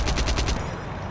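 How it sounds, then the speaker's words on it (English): An aircraft machine gun in the World War II game Forgotten Hope 2 fires a rapid, loud burst of evenly spaced shots that ends with a brief fading echo. "You can see that there's 200 bullets in the machine gun."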